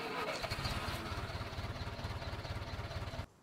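A tractor or farm vehicle engine in Farming Simulator 19 cranks and runs with a steady low chugging pulse for about three seconds, then cuts off abruptly.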